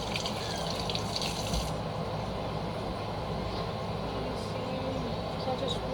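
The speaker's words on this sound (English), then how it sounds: "So I just washed my 1/4 cup." A quarter-cup measuring cup is rinsed under a running kitchen tap, producing a steady, close rush of water that shifts slightly partway through.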